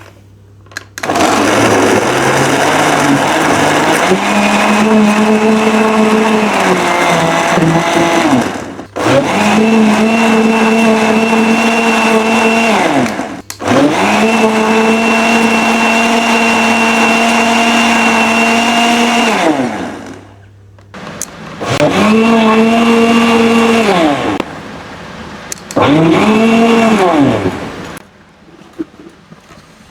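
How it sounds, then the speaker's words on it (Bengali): A kitchen blender whirs through energy drink ingredients in five loud, close bursts separated by short pauses. The motor pitch climbs and settles in each run, and a brief word of thanks is spoken at one point. "সবগুলো উপকরণ দিয়ে ব্লেন্ডার রেডি করেছে এখন এগুলোকে ব্লেন্ড করে নিতে হবে"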